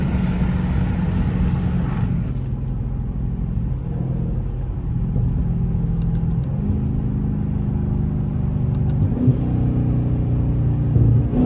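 A Dodge Charger Scat Pack fitted with catless midpipes rumbles loudly and accelerates with a deep, continuous exhaust roar, heard close up from inside or beside the car.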